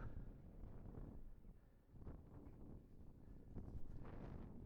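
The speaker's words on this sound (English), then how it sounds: "it's just getting a bit too windy, as you can tell by my hair" Steady wind buffets the microphone in low, rumbling gusts that swell and ease, with no other sounds.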